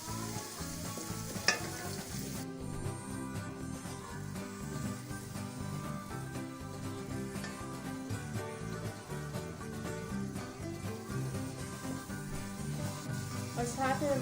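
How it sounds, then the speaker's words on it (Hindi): Mutton stock (yakhni) poured into browned ginger-garlic paste for mutton pulao sizzles and fries with a constant crackling hiss, with occasional stirring clinks and a brief louder splash near the start. "अदरक लहसुन का पेस्ट ब्राउन होने के बाद अब हम इसमें यखनी ऐड करेंगे"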